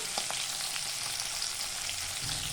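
Crab frying in hot mustard oil in a wok, a steady dense sizzle that holds without pause, with a low rumble rising near the end.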